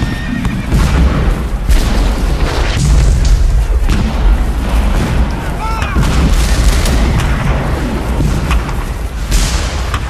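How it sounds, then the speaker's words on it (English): Civil War Confederate artillery barrage with repeated heavy booming cannon fire, loud and dense over continuous battle noise, with horses whinnying amid the shelling and no speech. "For more than an hour, Confederate guns pound the Federal center."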